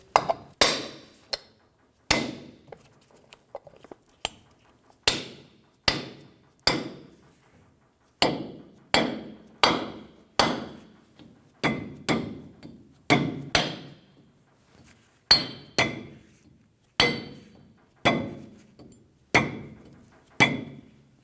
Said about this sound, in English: Install the dust cap, tap it into place.